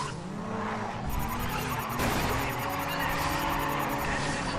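Race car drifting in Race Driver GRID, with loud, sustained tire squeal and skidding over a straining engine that holds steady close by throughout.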